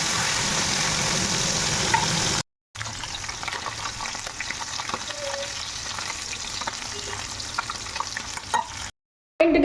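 Fish frying in a wok, a steady crackling sizzle at close range with a couple of short dropouts, carrying on without talk.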